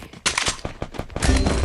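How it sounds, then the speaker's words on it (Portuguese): Rapid gunfire bursts out in quick successive shots, sharp and close, ending in a heavier sustained volley like video game combat. "Cheguei dando tiro."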